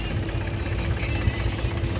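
A low, steady 4x4 tractor engine rumble idles continuously with a faint vibrating hum, close by and unchanging, with no one talking.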